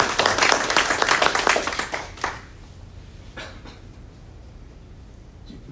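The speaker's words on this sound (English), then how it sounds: "So we really want to clap for him as well." Audience at an awards ceremony claps for a helper, a dense burst of hand claps for about two seconds that thins into scattered claps and fades to quiet room noise.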